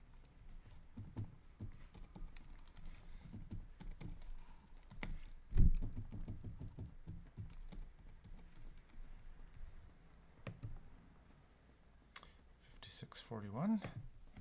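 Close, soft computer keyboard typing at a Raspberry Pi setup, quick irregular key taps with a couple of louder thumps, faint and without talk.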